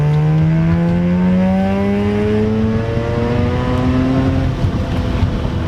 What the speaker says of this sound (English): It's so much fun to rev this thing out, dude